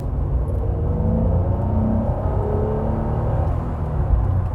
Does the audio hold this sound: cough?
no